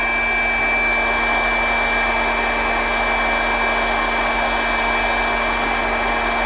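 A hot air rework tool blows steadily on a chip's pins, giving a loud, constant airy whoosh with a steady fan hum and no change in tone throughout, heard alone.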